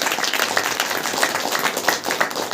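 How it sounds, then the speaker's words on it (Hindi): Congregation at a Hindi church meeting clapping hands together, a dense, continuous, fairly loud patter of many hands with a loose rhythmic pulse. "ताली बजा करके"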